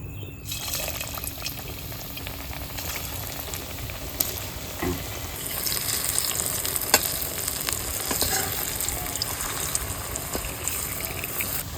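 Yam koftas deep-frying in hot oil, a dense steady bubbling sizzle up close with occasional clicks and pops, brightening partway through, no talk.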